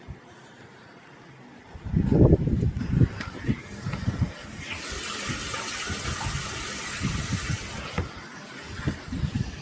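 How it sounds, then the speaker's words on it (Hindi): Water gushes into a tank with a steady rushing flow, a loud splashing burst early and then a continuous broad hiss, with some clunks and background noise around it. "पानी तो भर रहा है।"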